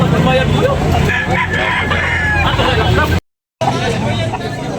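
Fighting cock roosters crow among a busy crowd of chattering voices at a poultry sale, harsh calls rising over the babble before a brief dropout and more noise.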